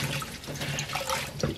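Boiled bangpung greens (siler) are rinsed under cold water in a kitchen sink; running tap water splashes and trickles steadily and close by, with no voices.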